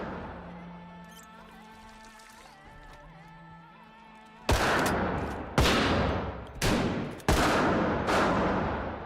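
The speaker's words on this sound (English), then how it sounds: "we're firing gunshots and shit being extra loud right now" Four loud, sharp gunshot blasts in Project Zomboid ring out in the second half, each with a decaying tail, after a quieter stretch of ambient game noise.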